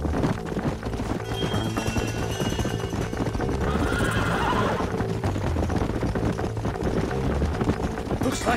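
In the Red Dead video game, a horse neighs and whinnies over steady clip-clop of hooves, with game ambience and a voice murmuring in the background.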